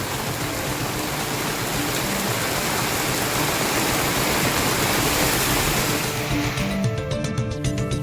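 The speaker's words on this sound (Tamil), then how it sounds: "சேலம் மற்றும் சுற்றுவட்டார பகுதிகளில் பெய்த கனமழையால் வெப்பம் தணிந்தது" Heavy rain pours steadily over Salem and its surrounding area in Tamil Nadu, a loud, dense, continuous hiss with no pauses. Faint tonal sounds creep in near the end.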